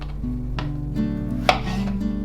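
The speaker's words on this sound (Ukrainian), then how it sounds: "Тепер нарізаю картопельку" Several soft knife strokes chop potatoes against a board, one sharper knock standing out, over a steady background hum.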